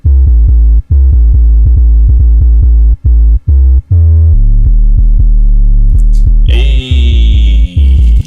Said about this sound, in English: 808 is gonna end up sounding like this on its own.